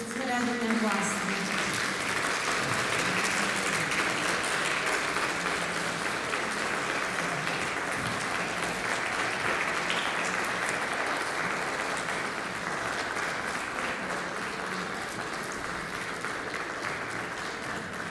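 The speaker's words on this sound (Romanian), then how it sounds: "Vă rog frumos să o aplaudați pentru că are nevoie de susținerea dumneavoastră." An audience at a ballet festival applauds steadily with dense, sustained clapping that fills the hall, beginning just after a brief spoken announcement and continuing loud throughout.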